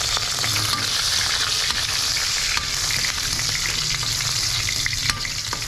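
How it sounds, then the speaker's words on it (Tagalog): Ginger pieces sizzle steadily in hot cooking oil while a pakbet dish is started, a dense, loud frying hiss that holds throughout with occasional small pops and stirring clicks, no voices. "Mainit na naman yung siguro yung mantika natin. Lagay muna natin yung luya."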